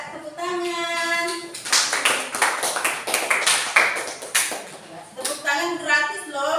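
A group of people claps hands in a classroom, with sustained, dense applause swelling between stretches of voices at the start and end.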